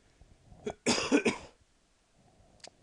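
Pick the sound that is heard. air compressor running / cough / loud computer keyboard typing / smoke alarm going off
cough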